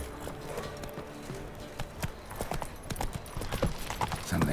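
Horse hooves galloping in The Witcher 3, a quick continuous clip-clop rhythm of a horse at speed, close and steady over a game soundscape, with no talking.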